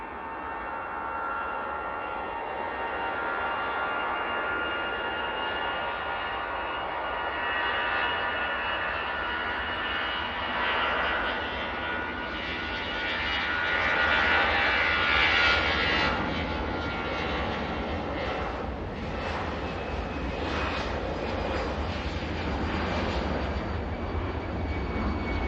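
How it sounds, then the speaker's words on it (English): An easyJet airliner at Manchester Airport roars past, a loud, sustained engine rumble that swells toward the middle and then holds as it moves away. "And there goes that Easyjet."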